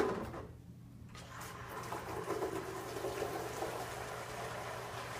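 Water pours into a nearly full bucket, a steady wash of splashing and gushing that starts after a brief quieter moment and carries on evenly at moderate volume.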